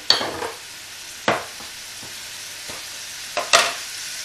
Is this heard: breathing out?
no